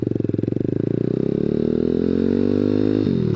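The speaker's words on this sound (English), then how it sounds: "Today we're on the Grom clone with the zs190." A ZS190-powered Honda Grom clone motorcycle pulls away, its single-cylinder engine pulsing rapidly and rising steadily in pitch as it accelerates, close and loud, before a gear change near the end.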